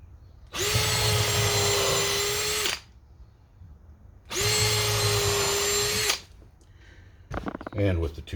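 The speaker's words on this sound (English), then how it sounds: "2 screws is plenty for a 2x4." A power drill drives screws into 2x4 lumber in two sustained bursts of whirring, each lasting about two seconds, with a brief voice and rustling afterward.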